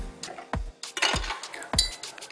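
Ice cubes clink against glass while a Long Island Iced Tea is mixed with cola and lemon juice: several sharp, separate clinks and knocks in an uneven rhythm, close up and alone.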